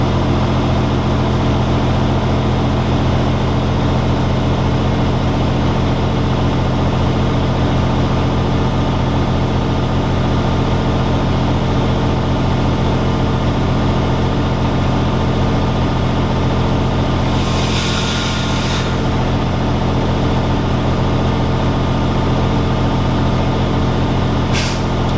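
A truck engine runs at a steady 1500 RPM during a Class A air brake test, a loud, even heavy drone. A short burst of air hiss comes partway through, and no one speaks.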